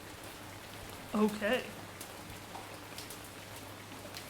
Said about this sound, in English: It looks like it's raining.